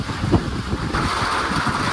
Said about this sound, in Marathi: थांब एवढं वारा आहे